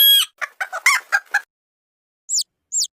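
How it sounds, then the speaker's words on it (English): A family of chickens, hen, rooster and chicks, gives a quick run of close, clear clucks, then falls quiet before two short, high peeps. "This is a family of chickens."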